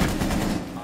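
A short, dense rattle of rapid gunshots from a video game is fired at the wall by the bar, loud and close, lasting under a second.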